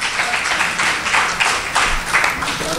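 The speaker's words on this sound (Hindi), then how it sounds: "दोस्तों, ज़ोरदार तालियों के बीच इस्तकबाल कीजिए।" An audience at a Pune mushaira applauds during a felicitation, with dense, continuous clapping that holds steady at a lively level throughout.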